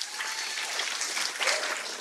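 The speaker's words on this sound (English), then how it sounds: "give them a big hand clap for helping us out today." Church congregation applauding with hand claps, a steady wash of many hands clapping at moderate loudness in a reverberant room, with no voices standing out.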